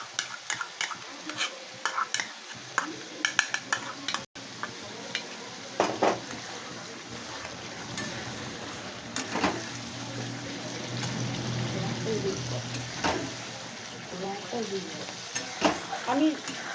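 Chicken bharta cooking in a pan just after sour yogurt goes in, with a steady low sizzle, scraping stirs and occasional utensil clinks as a voice talks over it.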